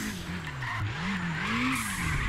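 A race car drifts through a corner in Race Driver Grid, its tires squealing in a long continuous skid over a wavering engine drone, loud and close with no talk.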